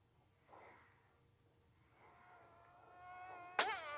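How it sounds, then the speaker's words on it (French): A fly buzzes faintly in a quiet room, whining in and out in a couple of soft passes before a sharp close slap-like hit near the end. "Il y a une mouche."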